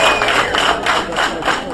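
Crowd of wedding guests clapping at a Rwandan wedding celebration, a dense, steady wash of applause with rhythmic surges, loud and close, running throughout without pause.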